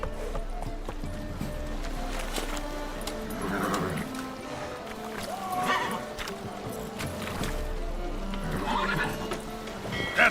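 A horse in The Witcher 3 whinnies several times between steady clip-clopping hooves, with a game soundtrack and ambient noise running underneath.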